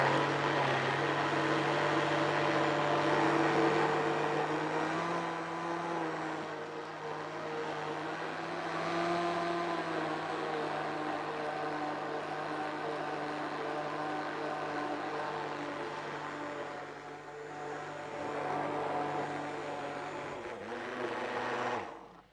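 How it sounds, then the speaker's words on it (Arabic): An electric blender whirs continuously at high speed, a loud, close motor drone whose pitch shifts slightly as the contents thicken, running alone for about twenty seconds before stopping abruptly. "صوت الخلاط عالي"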